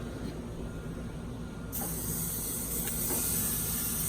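Porterhouse steak about an inch thick, oiled side down, hits a hot grill and starts sizzling, a sudden loud hiss that swells over a steady rumbling background and then holds.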